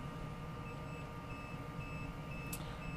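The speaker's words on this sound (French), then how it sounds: "Là, j'ai une petite alarme qui sonne et le voyant qui s'allume ici." The warning alarm of the fridge in a Ford Transit camper sounds as short, faint, high-pitched beeps in an irregular series over a steady low rumble of driving noise, with no talking.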